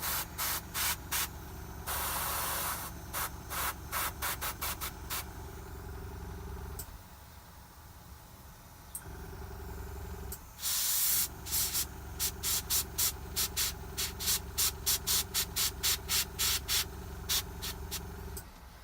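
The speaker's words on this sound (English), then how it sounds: "possible to even airbrush in the little squares" Airbrush spraying paint onto a Red Cap miniature from Blacksmith Miniatures, a close soft hiss coming in short repeated bursts and longer steady passes, with brief quiet gaps.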